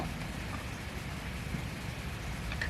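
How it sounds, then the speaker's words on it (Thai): Light rain drizzles outdoors in the countryside, a soft, even patter and hiss running steadily throughout with no voices. "วันนี้ ฝนเริ่มพรำแล้วนะครับ"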